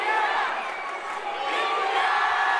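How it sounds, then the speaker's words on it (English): A stadium crowd roars and chants continuously at an under-19 men's India versus Nepal football match at the Golden Jubilee Stadium, a dense, distant wash of cheering voices that swells and holds throughout. "And the crowd, they go wild here. That India chant."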